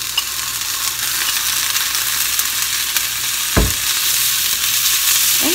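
Beef and half-cooked onions frying in a pan, a steady close sizzle with a brief scrape of stirring partway through.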